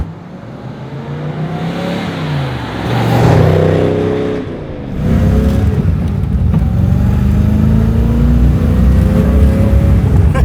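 A Superformance CSX Shelby Cobra replica accelerates hard, its loud engine roaring up through the revs, easing briefly for a shift near the middle, then pulling hard again, close and sustained.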